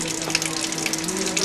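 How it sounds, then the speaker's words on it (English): Tap water running steadily from a disinfected water tank at a Haiti water project, a continuous broadband splash heard close up with no talk. "I'm going to let the water run for a couple of seconds"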